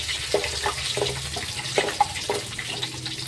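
Peanuts and chana dal fry in a pan while upma is made from a millet laddu mix. A steady sizzle runs throughout, broken by several light taps and clinks from stirring.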